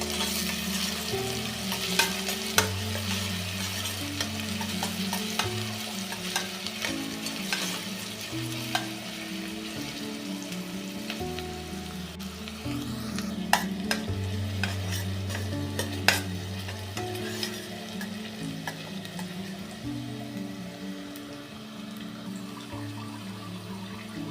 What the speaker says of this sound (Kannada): ಈಗ ಈರುಳ್ಳಿ ಕೂಡ ಈ ಎಣ್ಣೆ ಒಳಗೆ ಚೆಂದಾಗಿ ಫ್ರೈ ಆಗಬೇಕು